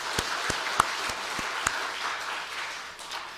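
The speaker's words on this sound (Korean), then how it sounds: "두 분 박수해 주십시오." Church congregation clapping for two newly installed deaconesses, a steady broadband patter with a few sharper individual claps standing out, moderately faint and continuous throughout.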